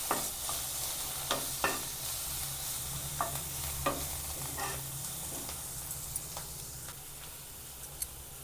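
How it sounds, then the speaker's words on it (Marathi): Coarsely ground coriander, cumin and fennel frying in a pan with a ginger, garlic and chili paste and asafoetida. A dense, constant hiss and sizzle is heard close up, with scattered light clicks and scrapes from stirring. "धणे, जिरा आणि बडीशोपची भरड मिक्स करूया आपण थोडं"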